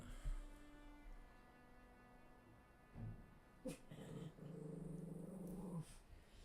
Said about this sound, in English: Big snorts from the Pippi dog.